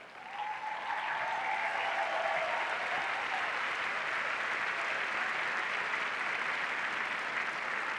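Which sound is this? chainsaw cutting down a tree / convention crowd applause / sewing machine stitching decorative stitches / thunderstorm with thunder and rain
convention crowd applause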